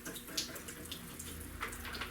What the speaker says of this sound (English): I'm just coming in here with warm water